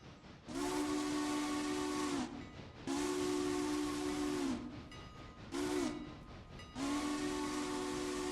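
A railroad train's steam whistle sounds in four loud blasts, long, long, short, long, over a steady hiss of rail noise, with no talk.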